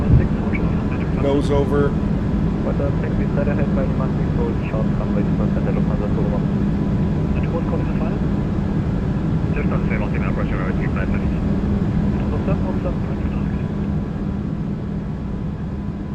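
Engines of an A340-300 airliner in a flight simulator game hum as a steady, loud broadband drone at climb thrust, with a person talking over it.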